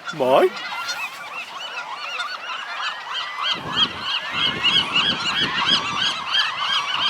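Geese honk repeatedly near Alcatraz at night, a loud, ragged chorus of overlapping calls that keeps going throughout, joined by more honks partway through.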